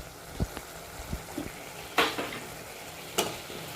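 Brinjal cooking with salt in a pan, sounding as a few scattered scrapes and knocks of stirring over a soft, steady sizzle, with brighter clatters near the middle and end.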